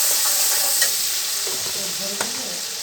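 Tengra fish with salt and turmeric being stirred in a hot pan, a bright continuous sizzle with a few soft knocks and scrapes from the spoon, close and alone without talking.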